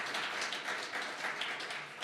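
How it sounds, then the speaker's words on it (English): Applause from an audience at a live-streamed event: a steady, moderately loud wash of many hands clapping for a couple of seconds, with no voices over it. "please clap the hands"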